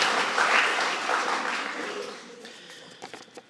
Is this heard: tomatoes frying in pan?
no